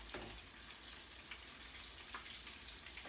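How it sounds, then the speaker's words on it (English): Food deep frying in oil for a plant-based pasta dish, giving a faint, steady crackling sizzle with scattered small pops throughout. "These are the ones that are deep fried, being deep fried."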